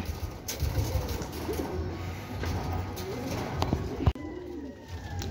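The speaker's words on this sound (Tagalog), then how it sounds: "kung kailan cut off na tayo, saka nagdatingan yung mga ibon natin" Racing pigeons arriving at a home loft at the close of a derby race, with soft, low cooing repeating over a steady outdoor hum and one sharp knock partway through.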